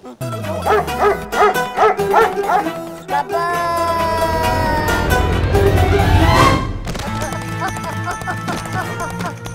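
A guard dog at a mansion barks repeatedly up close in loud rhythmic bursts, then noisy commotion with music-like tones and voices continues around it.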